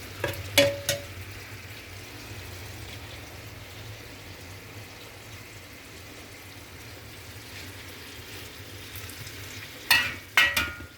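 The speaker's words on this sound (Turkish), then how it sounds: "Tekrar yine 2 yemek kaşığı tereyağımı eritiyorum" Two tablespoons of butter melt in a pan for Malatya-style içli köfte, a soft steady sizzle with a few sharp clinks of a utensil near the start and again at the end.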